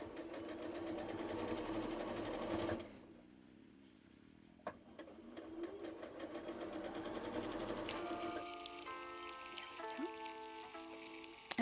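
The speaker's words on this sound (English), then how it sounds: "sew all the way around this curve, keeping the tops lined up as much as possible" A sewing machine stitches a seam around a fabric curve, giving a steady mechanical whirr. It pauses briefly and then runs again at a quieter level, with faint rattles and clicks.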